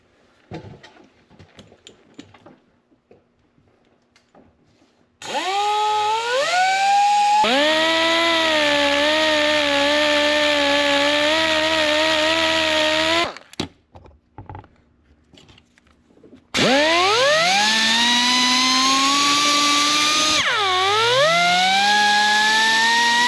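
A power tool deburring the flywheel and starter gear teeth on an IH tractor in two sustained, loud bursts with a whining, rising and falling pitch, separated by brief quiet pauses.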